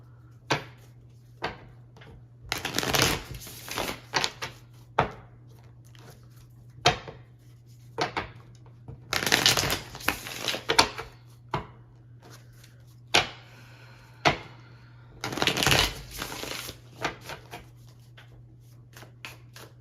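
Tarot cards are shuffled in three bursts of riffling, with softer taps and flicks between them as cards are pulled, quiet and close over a low steady hum.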